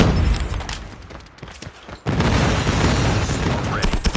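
Airstrike explosions in Call of Duty Mobile, a rumbling barrage of booms that fades, then surges back loud and continuous with crackling blasts under game voice callouts.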